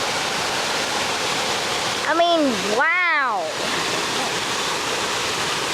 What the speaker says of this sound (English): look, a humongous waterfall comes